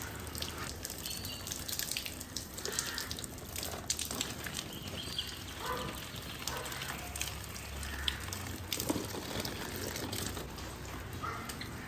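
Water runs and splashes onto flowering plants in a small home garden, an uneven, close trickling and spattering that carries on throughout at moderate level, with no talking.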